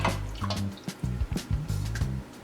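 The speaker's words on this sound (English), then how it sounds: "Now we're going to be adding in 2 cups of the beef broth." Beef broth pours in short gurgling splashes into tamale dough, close and clear, in several brief bursts with small gaps between them.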